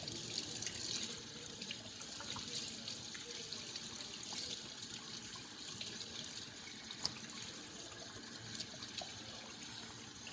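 Kitchen tap running steadily into a sink to rinse a discount chicken, a quiet, continuous splashing stream with small irregular drips and clinks.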